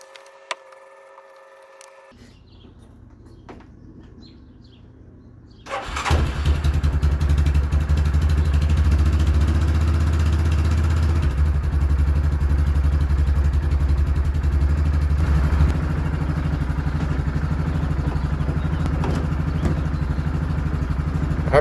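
A Yamaha Rhino 450 ATV engine, after carburetor work, cranks and catches partway through, then runs on with a loud, steady, rumbling idle close by.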